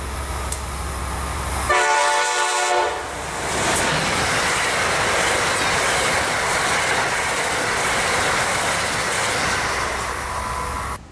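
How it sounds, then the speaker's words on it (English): Amtrak AEM-7 electric locomotive leading a passenger train past at speed, a loud horn blast near the start, then a steady roaring rush of passing cars with rail noise filling the rest, no talk. "Amtrak AEM-7 number 921 leads flyby Amtrak 135."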